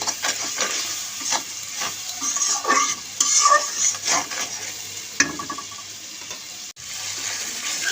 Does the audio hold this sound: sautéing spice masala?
yes